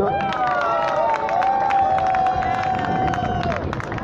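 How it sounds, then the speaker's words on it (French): A large crowd at a rally during a march in France cheers and applauds, a steady sustained roar of voices and clapping with whistles and shouts on top. "Je vous demande de l'acclamer une fois de plus"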